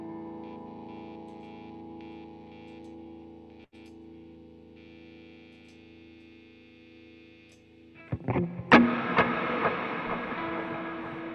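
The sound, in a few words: electric guitar through a Blues Breaker overdrive pedal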